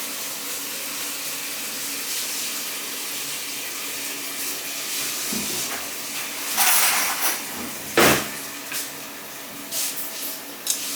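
Water runs steadily from a kitchen tap into a basin to soak something, a continuous hiss with a few louder splashes near the end, no talking.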